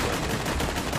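Rapid gunfire from a Borderlands 2 video game session, a dense burst of repeated shots running steadily through the whole moment at a loud, even level.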